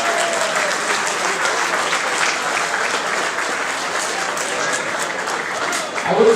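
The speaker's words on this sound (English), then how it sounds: "A big round of applause, please," Crowd applause at a Britcham Christmas function, a dense, steady wash of many hands clapping that holds at an even level throughout and swells slightly at the very end.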